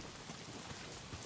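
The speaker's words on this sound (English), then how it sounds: "Why is it always raining?" Steady rain falls in the video game Days Gone, a quiet, even wash of drops hissing on surfaces with no pauses, soft and distant throughout.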